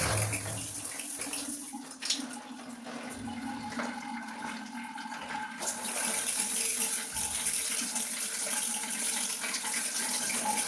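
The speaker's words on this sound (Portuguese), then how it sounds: "Chuveiro com vazão normal, de água." An electric shower runs in a residential bathroom, giving a steady, close hiss of falling water that holds constant throughout, with a brief shift in tone partway.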